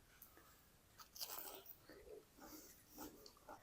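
Crispy fried potato egg balls are bitten and chewed close up, with a few sharp crunches followed by softer, irregular chewing at a quiet level.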